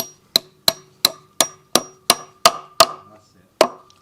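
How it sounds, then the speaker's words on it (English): A hammer taps wall fasteners into a masonry wall while a timber deck frame is fixed, about ten sharp metallic knocks at a steady pace with a final blow after a short pause, close and loud. "we're going to grab a hammer and tap it in"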